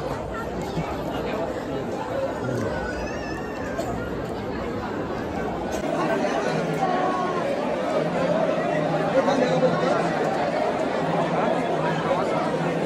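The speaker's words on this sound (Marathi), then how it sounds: "जाम गर्दी आहे गाईज." Crowd chatter at the busy Ekvira temple in Karla, a steady dense babble of many voices close around, with a vlogger talking over it.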